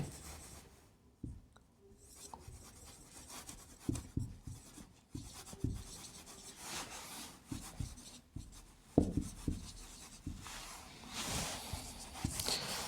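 Pen or pencil scratching on paper while English example sentences are written out by hand, a series of soft irregular strokes and taps over a quiet room, with no talking.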